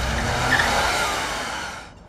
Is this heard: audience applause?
no